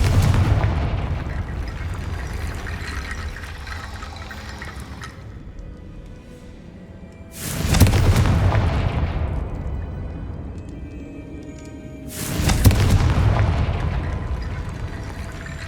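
Two big blasts from the Confringo fire spell in Hogwarts Legacy, each a sudden loud boom trailing into a long rumbling fade, coming about five seconds apart after a decaying earlier burst.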